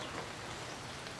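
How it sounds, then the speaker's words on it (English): Steady rain falls outdoors around a porch, a soft, even hiss of drops on surfaces with no voices. "it's raining"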